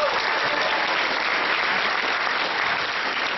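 A large audience applauds continuously at a welcome event, a dense, even roar of clapping held steady throughout.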